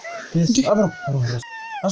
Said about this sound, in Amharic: ድመት ነች